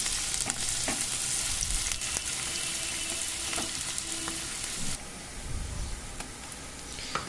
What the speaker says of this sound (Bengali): পেঁয়াজটা দিয়ে একটু ভাজা ভাজা হয়ে এসছে, লাল করে ভাজবো না